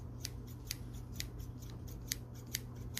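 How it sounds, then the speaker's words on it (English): Scissors snip repeatedly in a quiet craft-shop setting, about eight crisp, close cuts in an uneven rhythm over a soft steady hum, with no talking. "Some scissors."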